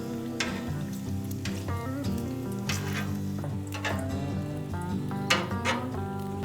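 Bacon sizzling on a Loco griddle, with a steady close crackle and spatter throughout and light scraping clicks along with it, under a bed of background music.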